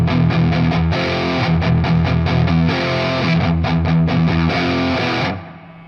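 An electric guitar played through an IK Multimedia Tonex pedal on a dry dual rectifier amp capture, with no reverb: heavy distorted chugging riffs with tight palm-muted stops, loud and close, ending in a ringing chord that cuts off.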